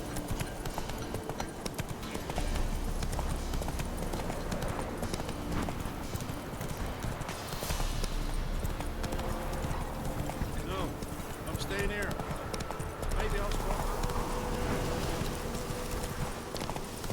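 Roach the horse gallops in The Witcher 3, steady clip-clopping hooves running continuously and fairly close, mixed with game ambience and occasional speech over the top.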